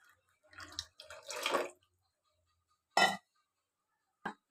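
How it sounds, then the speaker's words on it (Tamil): Short splashes of water poured in bursts into ragi (finger millet) mixture for porridge, followed by a couple of brief clinks or drips, in a quiet setting. "இந்த தண்ணியை வந்து நம்ம அப்படியே ஊற்ற வேண்டியது"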